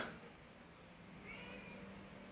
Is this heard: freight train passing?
no